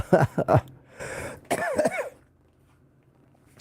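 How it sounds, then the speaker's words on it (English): A few close, harsh coughs come in quick succession, followed by a rougher throat-clearing cough, then quiet. "I coughed and it kind of broke up a little bit."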